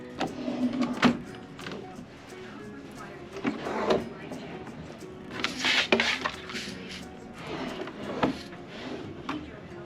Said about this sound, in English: Let me open up the cabinet so you can see what the space situation looks like.